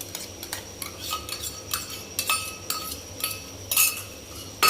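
Yogurt being stirred into a capsicum curry in a pot, a steady run of close metal spoon clinks and scrapes against the pot in quick irregular rhythm, with no talk.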